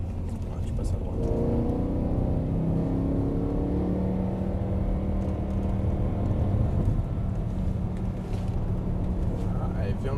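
A BMW M3 E92 engine drones and climbs in pitch as it accelerates on a race circuit, heard from inside the car as a steady loud rumble, with people talking over it.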